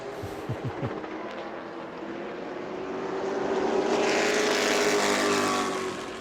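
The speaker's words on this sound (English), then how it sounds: "Rest of the field making their way across the line." Sportsman race cars cross the line during group qualifying at New Smyrna, their engine roar building from a distance into a loud, sustained swell before easing slightly at the end.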